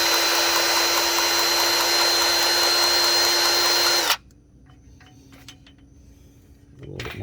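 A DeWalt DCGG571 cordless grease gun runs with a loud, steady motor whine and a high tonal whistle for about four seconds, then cuts off abruptly, leaving quiet handling noises before a brief clatter at the end.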